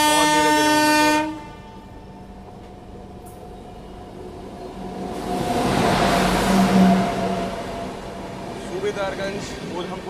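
A passenger train creeps slowly near Prayagraj. A horn blares briefly at the start, then a low rolling rumble of the railcars rises and falls with faint clanks, heard from on board.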